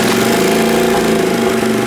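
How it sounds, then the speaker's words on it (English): Turbocharged 125cc go-kart engine idling close up, a loud steady buzzing drone with a slightly uneven pulse and no voices. "Well, that immediately idles better than it has before."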